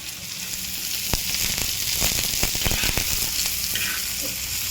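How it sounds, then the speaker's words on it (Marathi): Chopped onion dropped into hot tempering oil, setting off a loud, dense sizzle with a few clicks and scrapes of a spoon in the pan. "आता लगेच आपल्याला कांदा टाकायचा आहे"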